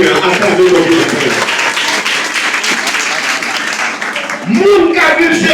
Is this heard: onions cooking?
no